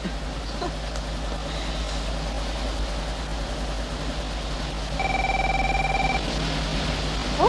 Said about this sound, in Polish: Telefon bagażnikowy. Wkładasz do bagażnika, żeby nie przeszkadzał.